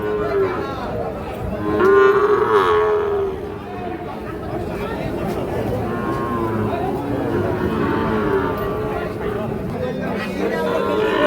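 Sahiwal bull calves at a cattle farm in Kishoreganj, lowing nearby with a loud moo early on, amid steady chatter from people talking around the animals.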